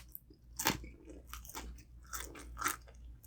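Crunchy tortilla chip from El Pollo Loco pork carnitas nachos being bitten and chewed close up, several sharp crisp crunches in an uneven rhythm with quiet pauses between.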